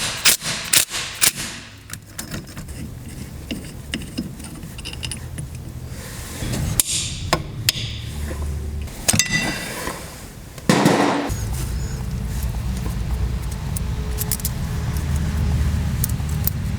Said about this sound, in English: I'm hoping I can just get my light impact on there and break it free